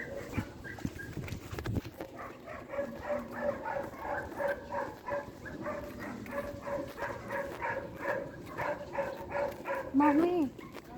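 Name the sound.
dogs barking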